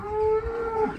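Cattle near a cattle grid on a country road let out a single clear, drawn-out moo, fairly close and loud, with no voices.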